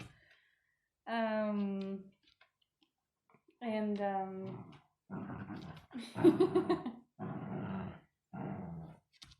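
A newly adopted dog growls and whines in several drawn-out, rising bursts separated by short pauses, close and fairly loud, with a person's voice mixed in.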